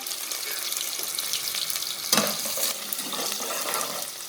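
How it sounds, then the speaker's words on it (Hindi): Cumin seeds and onion sautéing in a pan for aloo kofta, a continuous close sizzle with scraping stirs and a sharp clatter midway, loud and without talk. "ज़ीरे और प्याज को हमने अच्छा सा सौटे किया"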